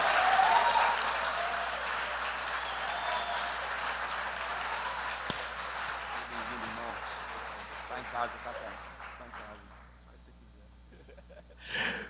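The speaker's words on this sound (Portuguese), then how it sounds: "Aplauda Jesus bem forte," Church congregation at a conference applauding loudly and warmly, a dense broadband clatter that holds steady for about nine seconds, then fades and thins out, with a brief burst of voices near the end.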